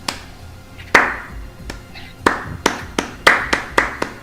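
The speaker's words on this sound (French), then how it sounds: "Il y a tout le monde qui se met à applaudir au sein de l'établissement" Applause played as a sound effect during a tabletop role-playing session, heard as a sparse series of sharp, separate hand claps that build into a quicker, irregular rhythm, fairly close and with no talk over them.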